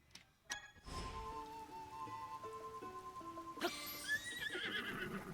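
A horse whinnies in the video game Zelda: Tears of the Kingdom, a clear, close neigh with rising and falling pitch over soft background game sounds, ending in a brighter squeal.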